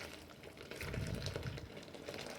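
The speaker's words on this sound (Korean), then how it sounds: "장수는 넙사보다 좀 물을 많이 넣어주세요." Water is poured into beetle substrate for a rhinoceros beetle egg-laying setup, giving a soft continuous splashing and trickling wash over a couple of seconds, close and moderately loud.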